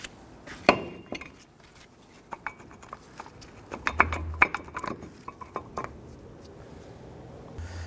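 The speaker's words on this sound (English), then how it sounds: "Go ahead and remove that pad" Metallic clinks and scrapes come from a front brake pad being worked out of the caliper on a 2006-2010 Hummer H3, with scattered close taps and a few sharper knocks, no talking.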